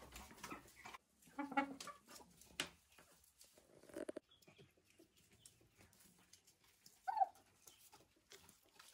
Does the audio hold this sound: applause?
no